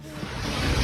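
Sea waves surge near the shore, a rushing, wind-blown roar that swells steadily louder over a brief moment.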